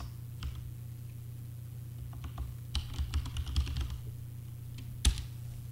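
Someone types a folder name on a computer keyboard in short clusters of light, close key clicks, ending with one sharper tap, over a low steady hum.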